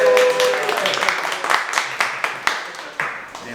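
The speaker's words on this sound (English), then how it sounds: "Everybody clap again!" A small group claps on request, a few scattered hand claps at first and then sharp separate claps spaced about half a second apart, close by and fairly loud, with voices in the background at the start.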